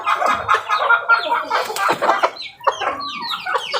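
Growing chicks, now nearly mature native chickens, cluck and chirp continuously at close range, a busy overlapping chorus of short calls with no voices.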